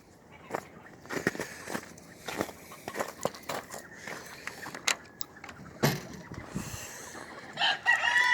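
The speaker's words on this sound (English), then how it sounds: "I got a lot of the red band pullets in this pen." A rooster crows and chickens cluck in a pen of banded pullets and stags, with scattered footsteps and rustling nearby and a distant crow rising above the steady outdoor background.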